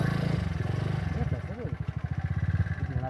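A scooter rides along a rough, waterlogged road near a hidden waterfall in Andhra, its engine chugging in a pulsing rhythm close by, with a voice talking over it.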